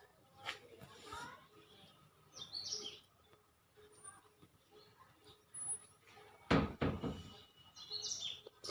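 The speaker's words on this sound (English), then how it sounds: "The mother bird is right there." A mother bird near its nest gives a few short, faint chirps between quiet stretches, with soft handling knocks and rustles close by and a louder thump partway through.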